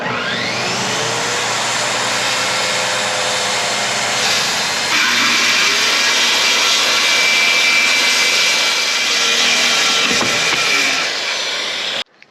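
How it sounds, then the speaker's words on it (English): A saw trims the edges of newly laid flooring, a loud, steady whining roar that runs continuously and shifts pitch slightly partway through before cutting off abruptly. "the last step in the flooring is to just trim off the edges here"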